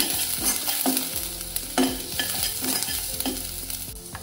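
Onions with green chilli and curry leaves sautéing in a pan, a constant sizzle broken by repeated scraping stirs of the spatula at an even pace, close and without talk.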